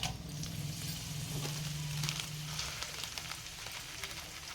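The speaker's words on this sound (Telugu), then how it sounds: "మనము ఎండి మిరపకాయలు వేసేసుకుందాం" Dried red chillies sizzle and fry in hot oil for a Telugu fenugreek chutney, a steady crackling hiss with a faint low hum beneath and no voices.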